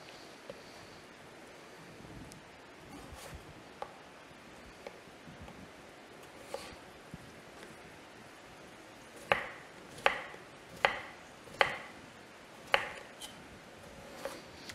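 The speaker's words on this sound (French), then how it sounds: "Je vais elle aussi la tailler en cubes d'à peu près 1 cm sur 1 cm." A knife cuts potato into roughly 1 cm cubes, with a series of crisp, close board taps that are sparse at first and then come as a regular run of sharp chops over low background noise.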